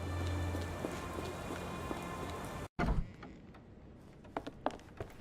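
Steady rain falls in the video game Sherlock Holmes The Awakened, a dense, even patter that cuts out briefly partway through, then returns more thinly with a few scattered drips and knocks.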